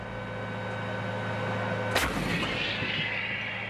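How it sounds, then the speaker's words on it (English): A single loud boom from an Excalibur extended-range cannon howitzer on an M109A7 Paladin chassis fires midway through, with a sharp blast and a rumbling decay over a steady engine drone. "The Excalibur cannon takes an M109A7 Paladin integrated management howitzer chassis"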